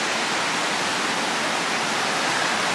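The Vârghiș river rushes through a gorge in the Perșani Mountains, a steady, loud broadband roar of flowing water with no pauses and no voices.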